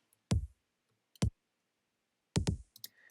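Short kick-like drum hits with the low end removed, taken from a dance track, land as a few sharp, punchy thumps with clicky attacks, separated by silence and ending in a quicker cluster.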